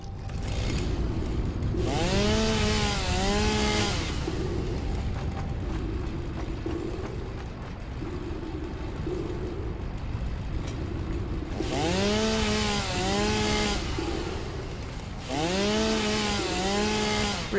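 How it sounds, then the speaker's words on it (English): A chainsaw cuts trees in the video game Satisfactory, with a steady loud engine drone and three high revving bursts that swell and dip in pitch, spaced out over a long stretch with no talk. "Just get our chainsaw out."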